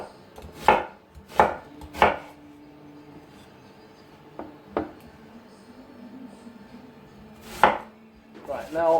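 Peppers being cut into big chunks with a knife on a board for a Greek sausage casserole: a few sharp, distinct chops, some in quick pairs, with quieter gaps and soft handling noises between them.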